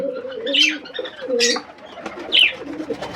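Several caged pigeons coo in a series of soft, warbling low calls with brighter flutters and chirps between them, rising and falling in three clear bursts close by, with no talking.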